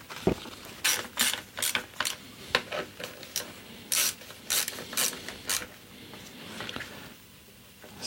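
Ratchet tightening the screws on a Renault Twingo throttle body, a close series of sharp clicking bursts in uneven rhythm, with quieter handling noise between them.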